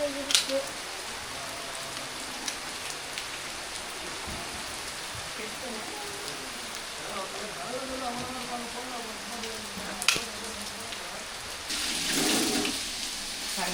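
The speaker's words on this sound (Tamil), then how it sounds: "காலையில் மழை" Steady rain falls through a morning scene at a family home, a continuous wash of patter with a few sharper drop hits and a louder burst near the end, while muffled voices talk faintly underneath.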